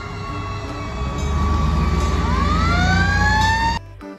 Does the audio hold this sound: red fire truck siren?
yes